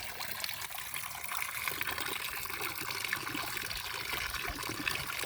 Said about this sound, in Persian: یا دوست دارید صدای آبو بشنوید دوستان؟